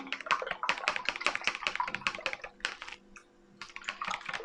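A homemade mucilage hair mixture for afro hair being stirred, with rapid clicking, tapping strokes of a utensil in a bowl, dense and close, pausing briefly before resuming.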